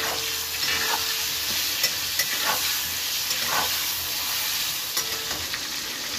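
Two or three medium-cut tomatoes are stirred in a sizzling frying pan for a Bengali rohu fish curry, a steady hiss broken by soft, irregular scrapes of the spoon, with no talking.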